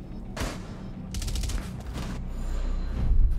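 Gunfire in Rainbow Six Siege, sharp rapid bursts of automatic shots in clusters, a short pause, then more volleys building louder toward the end, close and punchy.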